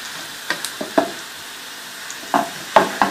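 Cumin seeds and garam masala roasting in a hot pan, a soft continuous sizzle broken by several sharp scraping stirs, close and clear with no voices.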